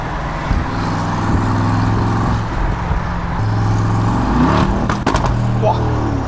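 A Mercedes G-Class lugs along at low revs with its engine rumbling and turbochargers audible, loud and close, then surges with sharp bangs near the end.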